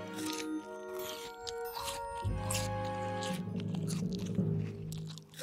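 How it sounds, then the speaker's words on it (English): Close crunchy munching and chewing of a pear, wet biting and squishing sounds repeating unevenly, loud and near, with no talking. "What's that noise? That sort of scrunching, munching noise."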